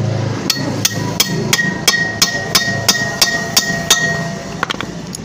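Light, evenly spaced hammer blows tapping a needle bearing out of a Honda CD70 engine crankcase: about a dozen crisp metallic knocks in a steady rhythm, close and loud, with no talk over them.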